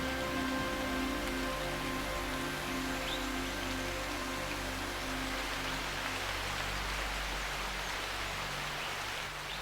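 Heavy monsoon rain pours steadily over a lush Indian rainforest on steep slopes, a dense, continuous hiss of drops on leaves with faint tonal hums beneath.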